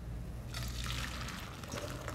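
Cooked beans are strained, with water pouring out in a steady splashing rush that starts partway through and runs on, moderately close.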